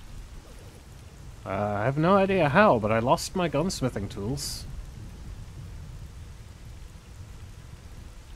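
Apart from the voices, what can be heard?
rain in the video game S.T.A.L.K.E.R. GAMMA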